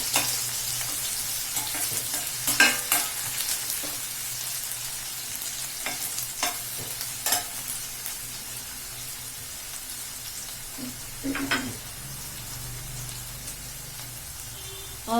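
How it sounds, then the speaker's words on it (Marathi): Onions fry in a pan with a steady soft sizzle, broken by a few sharp scrapes and clinks of stirring, close by and fairly quiet, with no one talking. "कांदा फ्राय करायचा आपल्याला"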